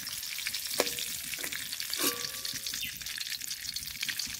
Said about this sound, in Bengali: হালকা করে ভেজে নিয়েছি, এবার তুলে নেব।